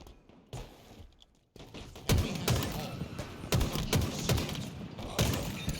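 Rapid bursts of gunfire in a competitive shooter video game scrim, sharp shots firing in quick clusters after a quieter opening, loud and close, with a commentator talking over them.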